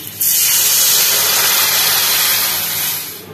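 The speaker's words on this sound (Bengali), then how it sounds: "এবার আমি জল দিয়ে দিচ্ছি" Water poured into a hot pan of fish roe masala, a sudden loud rush of hissing steam that swells at once, then tapers off near the end, with no one talking.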